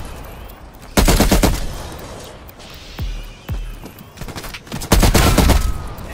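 Automatic weapons fire in bursts during Call of Duty Cold War Zombies, a holiday onslaught zombies challenge. Loud rapid salvos are separated by a couple of single sharp booming shots, with mechanical clatter in between.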